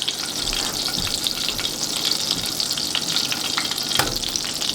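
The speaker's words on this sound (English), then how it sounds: "we're going to let that butter melt, and then we'll fry some polenta" Butter melts and sizzles in a hot pan before polenta is fried, a loud continuous crackling hiss with scattered pops and one sharper tick near the end.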